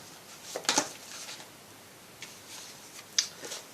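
Tarot cards shuffled by hand in a quiet room, giving a few soft, brief papery riffles with faint gaps of near silence between them.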